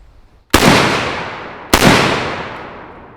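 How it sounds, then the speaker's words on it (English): Two loud, close gunshots from an unsuppressed PTR 91 rifle fired outdoors, spaced over a second apart, each a sharp blast followed by a long rolling echo. "up first we got the PTR 91 without a suppressor."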